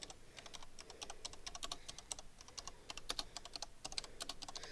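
Steady, fast typing on a computer keyboard, with close, dense key clicks in an uneven rhythm continuing throughout.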